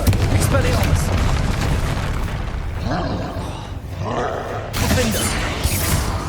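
Confringo blasting spell explosions in the video game Hogwarts Legacy, heavy booming blasts and crackling debris amid combat noise, with a character voice shouting over them.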